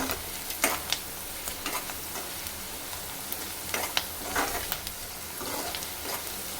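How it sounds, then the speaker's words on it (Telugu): Turmeric sizzles as it fries in a pan for tomato curry, a steady hiss of hot oil broken by the scrape and clatter of stirring, no talk. "ఇలా ఒక హాఫ్ మినిట్ అయితే వేపుకోవాలి మంచిగా"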